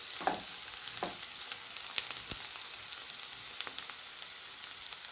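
Chopped onions frying in a pan for usirikaya (gooseberry) curry, a steady soft sizzle with a few scattered stirring clicks and scrapes, close by and moderately quiet.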